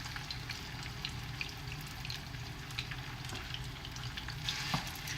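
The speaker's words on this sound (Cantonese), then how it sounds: "就要將個火轉去中火煎豬扒嘅時候" Thin pork chops fry in a pan over medium heat, producing a soft, continuous sizzle with faint crackles, quiet and steady throughout.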